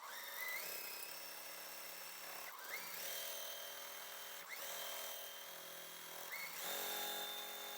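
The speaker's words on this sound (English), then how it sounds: "I'm going to put this line here and I'm going to sew." A sewing machine stitches precut quilt kit pieces, a steady whirring motor run in several bursts with brief pauses between them, close and fairly loud with no talking.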